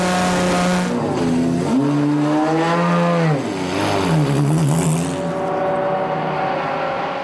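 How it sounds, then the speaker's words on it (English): An MV Agusta motorcycle laps a race track alone, its engine howling loud and close, with rising and falling pitch as it shifts through gears and swings past, then fading slightly toward the end. "Team boss Nico Wiet goes out for an initial lap to gather some information."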